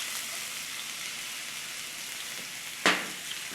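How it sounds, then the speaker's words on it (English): Finely diced onion sautéing in olive oil in a hot sauté pan, a continuous bright sizzle with one sharp clack of a utensil against the pan, no speech. "In the saute pan, a little bit of olive oil. And you're going to add about a half an onion,"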